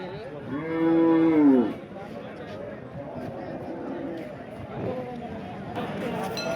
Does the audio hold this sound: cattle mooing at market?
yes